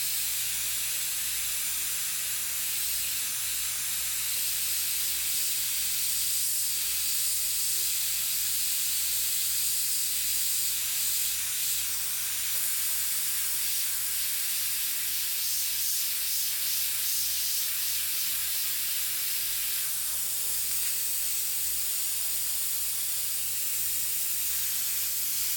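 An airbrush sprays paint onto a t-shirt, a continuous airy hiss that holds steady and close for the whole stretch, with subtle shifts in intensity as the spray moves, over a faint low hum.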